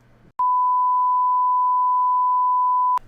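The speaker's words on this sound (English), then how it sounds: "gonna bleep that out" A steady censor bleep tone covers speech in a podcast, one loud unbroken beep lasting about two and a half seconds, with brief talk on either side.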